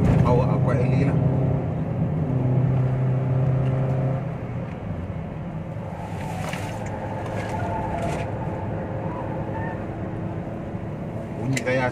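Steady road and tyre roar inside a 2020 Perodua Bezza on thin tyres climbing a winding mountain road, a continuous broadband rumble that softens slightly midway, with a voice speaking over it at times.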